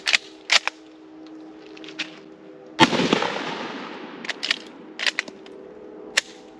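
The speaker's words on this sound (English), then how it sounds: "seeing as how this is a Lee Enfield, let's actually take advantage of that magazine and load it this way" Lee Enfield rifle magazine being loaded, a series of sharp metallic clicks and clacks with one louder slam that rings out, close and isolated with quiet gaps between.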